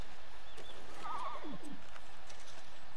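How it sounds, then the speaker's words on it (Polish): A horse neighs once, a wavering whinny in Red Dead Redemption 2 at a ranch after being fed and brushed, rising and falling briefly over quiet game ambience. "Póki co nakarmimy i wyczeszmy mojego konia."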